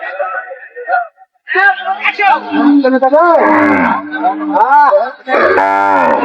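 Sahiwal cows and calves at a busy cattle market, several loud close moos one after another, long drawn-out bellows overlapping amid background crowd noise.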